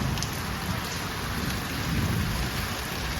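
Heavy monsoon rain in Junagadh pours down steadily with thunder, a dense, even roar of drops hitting surfaces that holds throughout with no voices.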